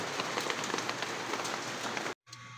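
Light drizzle patters steadily on outdoor surfaces, a dense even hiss of fine drops that cuts out abruptly for a moment near the end before resuming more faintly.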